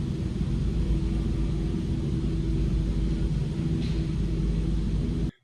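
Microsoft Flight Simulator airplane engine at full throttle for takeoff, a loud, steady low rumbling roar that holds constant throughout and then cuts off abruptly at the end.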